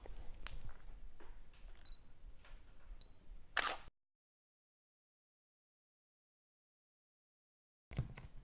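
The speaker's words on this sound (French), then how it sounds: "je vais reprendre une photo dans la même situation" A single-lens reflex camera set to spot metering fires its shutter in one sharp, loud mechanical click, followed by silence and another click just at the end, with quiet room hiss and no talk before it.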